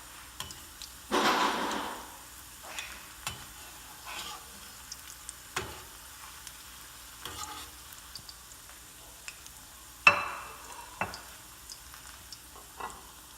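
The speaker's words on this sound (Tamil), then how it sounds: "கொஞ்சம் மிதமான வெப்பத்தில் எடுத்து பொரிச்சு எடுக்கலாம்." Mutton kola balls, Tamil-style kofta, deep frying in oil over moderate heat, giving a quiet sizzle with a few louder bursts of bubbling as the balls are turned, plus scattered light clinks.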